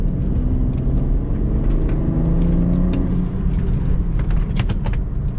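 A JB4-tuned 2014 BMW 335i xDrive M-Sport on skinny all-season tires drives through corners, its engine induction noise a steady, loud, close rumble throughout with faint hissy rushes on top and no talk.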